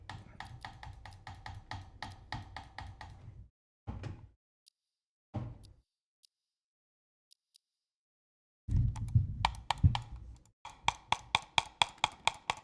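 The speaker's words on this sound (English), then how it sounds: "That's me clicking my mouse on the refuel button." A computer mouse is clicked repeatedly in quick rhythmic bursts, then isolated single clicks separated by silence, then another fast run of close, crisp clicks.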